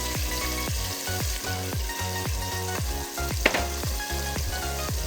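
Chopped tomatoes and salt fry hard in a pot for chicken kabsa, a loud continuous sizzle broken by regular rhythmic stirring scrapes, close by and with no talk.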